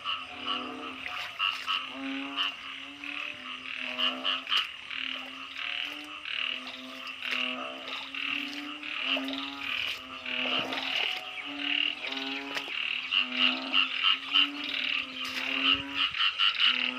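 Frogs croak in a rice field at night after rain, a dense chorus of rhythmic, overlapping calls that pulse steadily throughout, fairly close and loud, with no talk.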